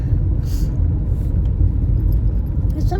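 A car is being driven on morning roads, giving a steady, loud low rumble of road and engine noise from inside the vehicle. Occasional faint clicks and rattles sit on top, and no one speaks.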